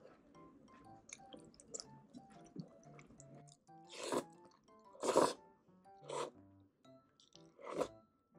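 Close, crunchy chewing on mandu dumplings comes in several distinct bursts of bites and squishy mastication, separated by quieter pauses.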